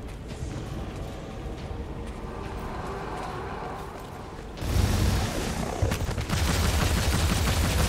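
Gunfire in the action shooter Immortal Unchained, dense and continuous, growing much louder around the five-second mark with heavy booming shots and clatter over game ambience.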